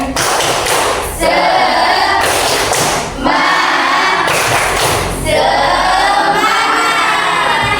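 A group of schoolteachers performs the Indonesian tepuk semangat spirit clapping chant, loud rhythmic claps in bursts alternating with shouted group chanting, repeated in three or four energetic rounds.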